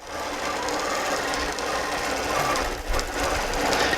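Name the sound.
sewing machine basting a quilt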